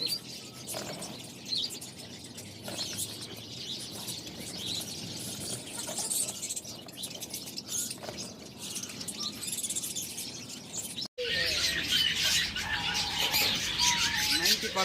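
Pet lovebirds, cockatiels and budgerigars at a bird seller's chirp and tweet steadily in a dense, overlapping chorus, with bursts of wing flapping and a brief break near the end.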